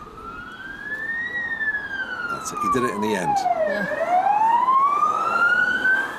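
An ambulance siren passes through traffic, heard from inside a car: loud, rising and falling wails sweep up and down over steady road noise, with brief talk between people.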